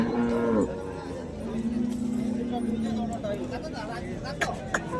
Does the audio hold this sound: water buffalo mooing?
yes